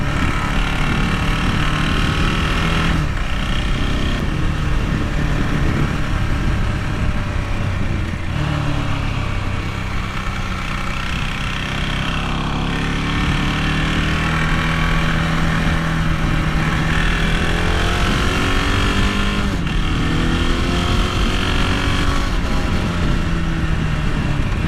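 A KTM 690 Duke single-cylinder motorcycle engine lugs along at low revs while riding, a loud continuous rumble with shifting pitch and wind noise throughout, no voices.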